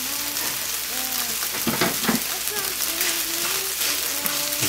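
Chopped spinach sizzles and crackles steadily in a hot pan for a scrambled omelette, a continuous close frying hiss with faint stirring and a quiet voice underneath.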